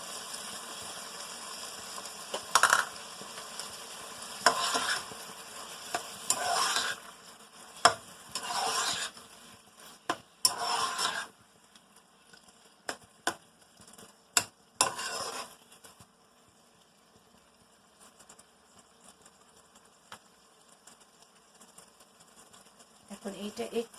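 Boiled carrot and chopped green pepper are stir-fried in a pan, with intermittent bursts of sizzling and scraping stirs spaced every few seconds. A quieter stretch follows, and a voice speaks in places.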